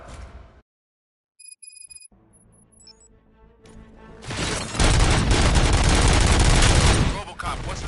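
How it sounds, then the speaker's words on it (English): Gunfire in the Robocop Rogue City video game: after quiet electronic tones, a loud sustained burst of rapid shots erupts and rolls on for several seconds. "Gunshots? What's going on?"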